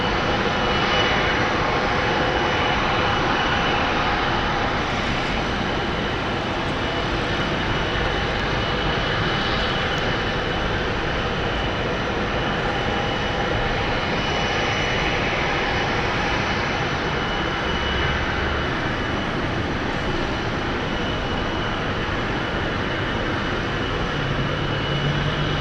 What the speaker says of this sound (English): ITA Airways and the Rome flight is now starting up